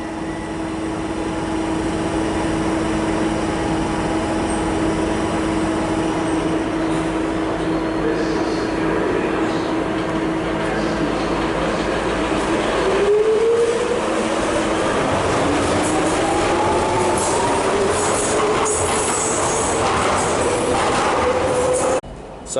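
A London train bound for London City Airport rumbles at Bank station, steady and close, with rising pitched whines as it moves off partway through and faint background voices.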